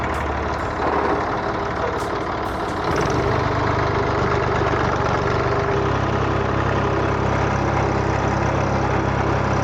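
A Massey Ferguson 231 tractor engine runs steadily while driving, a loud continuous low rumble with a knocking texture that deepens slightly partway through, with no voices.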